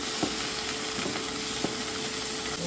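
Soy sauce hits a pan of kangkong (water spinach) and tofu, giving a steady, fairly loud sizzle with a few light clicks of stirring, and no voices.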